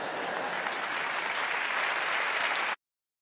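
A crowd applauding in reaction to a quote, loud dense continuous clapping that holds steady for nearly three seconds and then cuts off abruptly.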